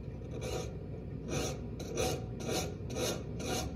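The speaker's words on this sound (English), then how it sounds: "take our rasp, bring this over to the edge of the table" A hand rasp files the base of a showpiece at a table edge, giving close, steady rhythmic scraping strokes about every half second, faint and without talk.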